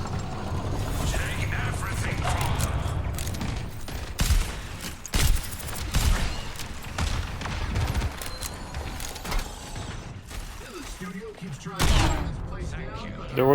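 Gunfire in the team shooter Overwatch: rapid, mechanical weapon bursts and clacks over a busy game soundscape, with voices talking over much of it.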